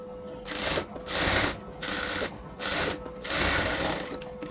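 A sewing machine stitches the neckline of a synthetic dress top in five close, rapid bursts of whirring, with brief pauses between them.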